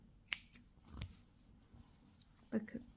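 Scissors snip yarn during crochet work on a cardigan, giving a couple of quick, crisp close cuts separated by quiet handling noises in a hushed room.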